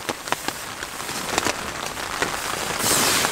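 Steady rain falling at a rainy campsite, a dense close patter with occasional sharper drips and louder drops striking nearby, growing a little heavier toward the end.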